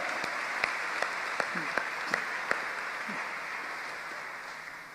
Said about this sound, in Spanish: Hay un aplauso grande al Señor.